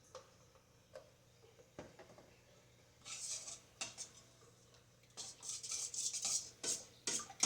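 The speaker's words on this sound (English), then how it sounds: "Give it another good stir to really mix it up." Utensil clinking and scraping against a container while stirring a probiotic Lactobacillus reuteri yogurt mixture in a yogurt maker; faint at first, then a run of quick, close clicks and taps from about three seconds onward, with no talking.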